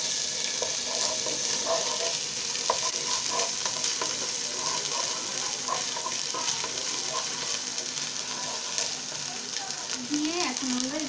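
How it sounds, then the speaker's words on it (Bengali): Onions sizzle steadily in hot oil with ginger and garlic added, a continuous frying hiss with occasional stirring scrapes, close and fairly loud throughout. "পেঁয়াজের মধ্যে একটু দিয়ে দিব আদা রসুন"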